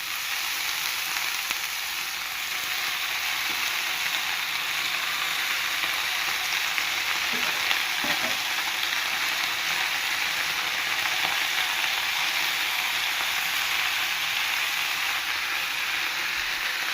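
Amaranth greens sauté in hot oil in a pan, giving a steady, even sizzle that holds at a constant level for the whole stretch, close and fairly loud with no voices.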